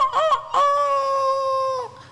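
A chicken gives two short clucks and then a long, loud crow, close and clear with nothing else behind it.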